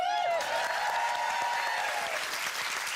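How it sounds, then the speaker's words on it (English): Applause from a television studio audience, a steady close wash of many hands clapping, with a faint tone running through the first two seconds. "I'm clapping myself. I'm clapping myself."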